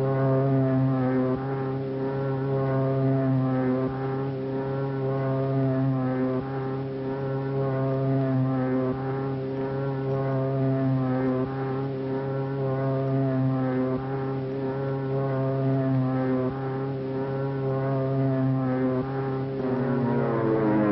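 Propeller aircraft engines drone steadily for a night raid, a loud, continuous, even hum with a slightly pulsing rhythm that holds throughout with no speech.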